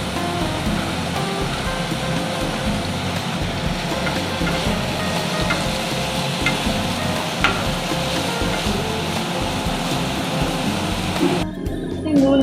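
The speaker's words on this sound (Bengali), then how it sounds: "আর এই কড়াতে তেল গরম হয়ে গেছে, এবার আমি আস্তে আস্তে সব সবজিগুলো দিয়ে দেবো।" Potato, cauliflower, carrot and beans fry in hot oil in a kadai for veg chow, a loud, dense, continuous hiss like heavy rain, broken near the end by stirring.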